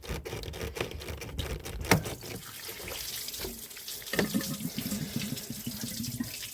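Water and rusty coolant drain from a GM Chevy truck engine while its water pump is replaced, giving a steady close splashing pour with a few louder gushes and drips and no talk.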